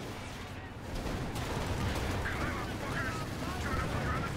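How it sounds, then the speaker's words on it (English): A 6-pounder anti-tank gun firing during a Company of Heroes 2 4v4 battle, dull gunfire and explosion rumble blended into a dense, steady wash of battle noise with casting talk over it. "6-pounder is still trying to get some more shots off."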